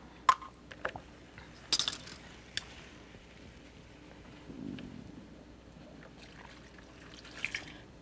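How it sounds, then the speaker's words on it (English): A spoon stirs a sugar and honey liquid in a bowl, giving a few sharp clinks against the sides, soft liquid swishes and quiet scraping, with no talking. "so I can pour it in the bowl and stir it and get every bit of the sugar and honey"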